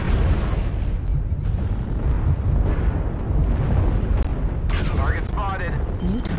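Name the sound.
artillery strike explosions in the video game MechWarrior Online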